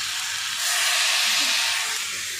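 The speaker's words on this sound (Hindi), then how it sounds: "अब हम विनेगर डालेंगे।" Vinegar splashes into a hot pan of chow mein and sets off a loud, steady sizzle that swells after a moment and holds close and strong, with no talking.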